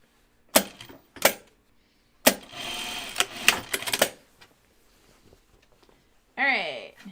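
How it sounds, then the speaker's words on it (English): A sewing machine stitches across the top of a pleat on a Kelly anorak. Two short bursts of stitching come first, then a longer steady run of about two seconds, all close and clear. "I'm going to sew across the top."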